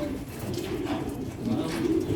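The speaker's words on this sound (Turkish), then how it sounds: "bunlar posta güvercini" Homing pigeons cooing in a flock at a farm in İslahiye, Gaziantep, a steady low murmur of overlapping coos with some other outdoor noise mixed in.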